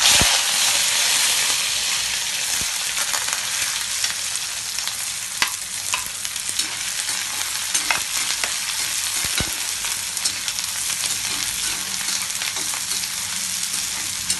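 Onions and curry leaves fry in a kadai with a steady, close sizzle and occasional stirring clatter throughout, no voices.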